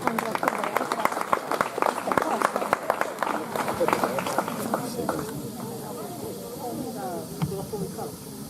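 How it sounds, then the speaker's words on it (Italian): An audience at a poetry competition in Serdiana, Sardinia applauds a poet, steady dense clapping that fills the room before tapering, with some voices mixed in. "un applauso a Marco"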